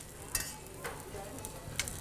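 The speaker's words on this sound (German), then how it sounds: "Beim Anbraten langt ein ganz normales Rapsöl." Food searing in a pan of ordinary rapeseed oil during a cooking show, giving a steady, even sizzle with a few faint crackles, close and moderately loud, with no talk.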